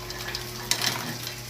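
A short stretch of soft bubbling and hissing from a pot of mussels boiling on the stove, steady and close, with a faint clink partway through.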